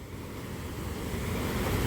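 A river rushes past beside a rural road in Colombia, a loud continuous wash of flowing water mixed with wind buffeting that grows slightly stronger over the short stretch.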